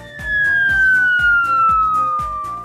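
Police car siren wailing loudly as it passes on a road in Švenčionys, the tone sliding steadily downward with repeated low thumps underneath.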